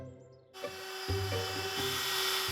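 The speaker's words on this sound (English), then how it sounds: "With my legs cut to size, I'm using a router for speed" A power router cuts into wooden stool legs, starting abruptly after a short quiet moment and then running as a steady, close, loud whine and rasp with small rhythmic bumps in the cut.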